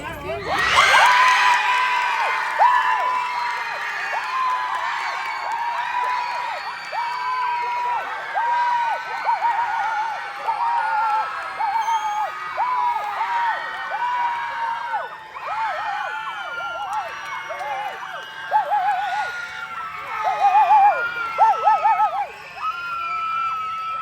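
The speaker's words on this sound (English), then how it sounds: "I want a cheer one more time for these 2" A Hmong festival crowd in Alaska cheers and whoops for two performers, with excited children shouting and screaming in loud, surging waves throughout, voices overlapping close to the microphone.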